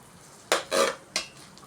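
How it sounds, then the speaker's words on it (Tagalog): Chicken pastil mixture with chicken breast and garlic is stirred in a pan, giving three short scraping, clattering strokes of utensil against cookware, fairly close, with a faint sizzle underneath. "Halo-haloin na po natin."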